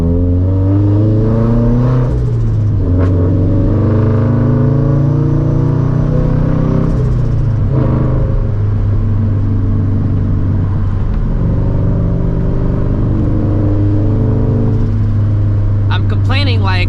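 A straight-piped 2013 Scion FRS with a 400-horsepower turbo pulls hard, its loud engine droning and rising in pitch through the gears as tires spin, with a brief shift dip and a fluttery turbo hiss near the end.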